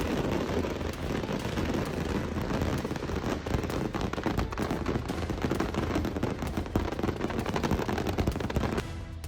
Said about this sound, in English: Lightning struck during a storm in Tuscaloosa, sending sparks flying and power lines bursting into flames.